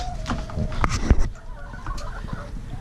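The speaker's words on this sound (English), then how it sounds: "But we just got some chickens." Chickens cluck and squawk close by in short bursts, with some rustling and a sharp knock mixed in.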